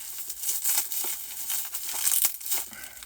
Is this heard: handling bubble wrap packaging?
yes